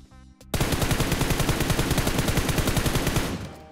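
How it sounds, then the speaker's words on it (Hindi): Rapid automatic gunfire from a gunfight in the battle royale game BGMI, a loud, dense stream of sharp, evenly spaced shots that runs for about three seconds without pause. "बट अब देखो इधर की तरफ से गन फाइट के साउंड तुम लोग को आ ही गए होंगे"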